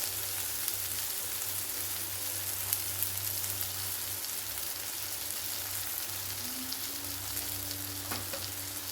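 Tomatoes with turmeric and chilli powder sautéing in a pan for masala chicken gravy, giving a steady, close, even sizzle of frying throughout with no voices.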